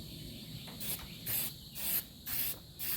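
Short hissing bursts of a spray gun laying a coat of paint on Farmall Cub tractor parts from a 1950 restoration, four or five spurts separated by brief pauses, close up with a steady background hum.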